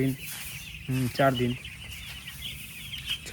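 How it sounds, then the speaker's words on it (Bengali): Young four-day-old chicks on a village chicken farm peep and cheep in bursts of high, repeated calls, with a steady chirping chorus continuing in the background throughout. "এই যে দেখো পাখিগুলা 4 দিনের বাচ্চা, এইসব 4 দিনের বাচ্চা মুরগি"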